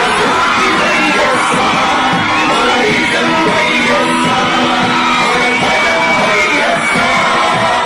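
A huge crowd at a Jagan political rally in Guntur roars continuously, with loud overlapping yells, whoops and cheers forming a dense, unbroken wall of sound.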